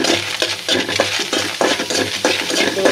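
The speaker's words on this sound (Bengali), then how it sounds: "সুন্দর করে একটু চিংড়ি মাছটা ভাজা ভাজা করে পেঁয়াজটা দিয়ে দিই" Shrimp frying in a pan with onion, a loud close sizzle broken by repeated spatula stirs and metallic scrapes against the pan.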